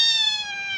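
A house cat gives a single clear, tonal meow, close and steady, slightly falling in pitch over under a second.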